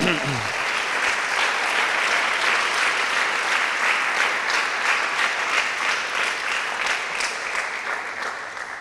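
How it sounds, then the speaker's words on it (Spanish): Church congregation applauding at a Spanish-language Sunday service, a dense, steady wash of many hands clapping close and loud for the full length, with a brief voice at the very start. "Le da un aplauso al Señor"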